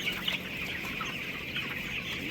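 Thirteen-day-old broiler chickens murmur and cluck softly together in a steady, close, continuous chatter of many birds.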